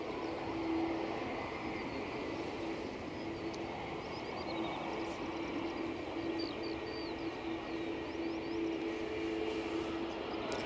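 A KLM airliner takes off at Edinburgh Airport on a windy day. A steady, distant jet engine roar holds throughout, blended with wind noise.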